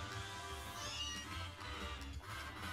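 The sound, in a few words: cat meowing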